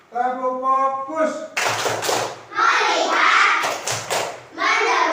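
Schoolchildren in a classroom do a rhythmic "tepuk fokus" clapping chant, loud bursts of hand claps and taps mixed with kids chanting words together and a teacher's voice.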